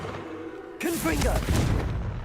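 A Confringo fire spell blasts off in the video game Hogwarts Legacy: a sudden loud burst with a roaring, crackling tail that carries on for over a second, while a voice talks over it.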